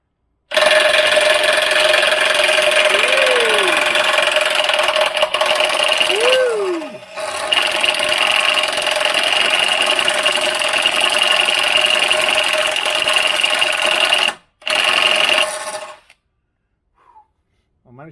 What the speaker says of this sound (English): This really rings with the sound of that impact driver.